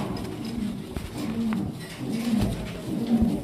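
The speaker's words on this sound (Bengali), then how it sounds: "একদম নতুন কবুতর।" Pigeons at a pigeon market give several low, repeated coos at close range over a soft background murmur.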